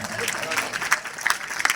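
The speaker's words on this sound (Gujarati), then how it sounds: "હવે તમે બધા તાળી પાડો તો વાંધો નહીં" An audience at a village folk dayro performance claps together in a dense, continuous burst of applause, loud and close, with voices mixed in.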